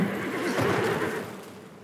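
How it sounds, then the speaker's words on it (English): A video game enemy in Black Myth: Wukong lets out a strained, horse-like neigh that rises and fades, a single breathy whinny-style cry heard up close. "Why does this guy sound like a horse?"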